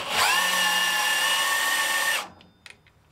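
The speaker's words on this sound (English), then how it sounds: "you can just grab your drill, put it on there, tighten that down" A cordless drill spins the head-raising shaft of an HM130 sawmill with a loud, close, steady high whine for about two seconds. It then stops, followed by a couple of faint clicks.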